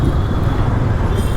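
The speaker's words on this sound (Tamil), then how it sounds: "டிராஃபிக் ரொம்ப இருக்குங்க" Heavy road traffic on a Bangalore street, a dense, loud, low rumble of engines and passing vehicles rolling on without a break, close and continuous.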